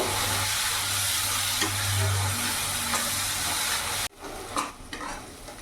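Ginger, garlic and chili paste frying over a medium gas flame, a steady loud sizzle with stirring that suddenly cuts out and gives way to softer scraping and clatter.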